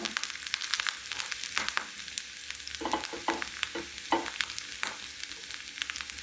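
Grated coconut fries in ghee for an elaji snack, giving a light, crackling sizzle with intermittent scraping stirs in the pan, at moderate level and without speech.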